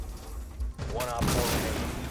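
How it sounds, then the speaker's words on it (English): A salvo weapon fires in a video game, a sudden dense burst of rapid blasts that swells into a loud roaring barrage, with game voices heard around it. "Activating salvo sequence."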